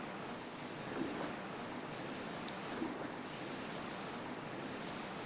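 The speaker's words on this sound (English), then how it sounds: "Jill unfortunately is getting splashed by the water there." A fountain in Raccoon City Park in Resident Evil 3 splashes with a steady, dense rush of water that fills the whole stretch evenly, with no talking.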